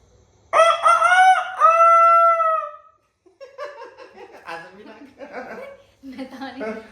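A person imitates a rooster crowing during a laughing challenge, giving a loud drawn-out cock-a-doodle-doo call, then dissolving into chuckles and laughter with another voice joining in.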